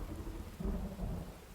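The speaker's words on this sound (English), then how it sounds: "Thunder still rolls in the distance, however." Distant thunder rolls low and continuous over steady rain during a storm, a deep rumble swelling and easing without a break.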